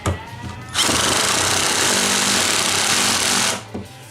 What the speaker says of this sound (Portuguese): eu posso ajustar isso aqui um pouquinho para cima para poder ele parafusar um pouco mais fundo.